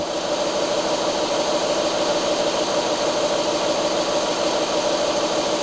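A car engine idles steadily during a battery tester's charging-system check, a constant low hum and whirr with no change in pace, no voices.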